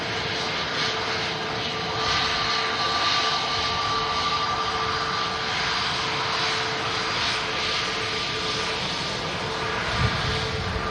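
EgyptAir airliner at Manchester Airport, a steady loud jet engine roar with a high whine, holding constant throughout.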